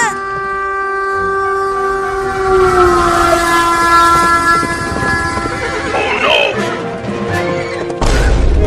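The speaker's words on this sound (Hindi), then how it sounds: "ये नहीं दिख रहा कि आगे से ट्रेन भी आ रही है।" A cartoon train approaches along the line, its horn sounding a long sustained blast over rumbling wheels, with a horse whinnying and voices shouting over the din near the end.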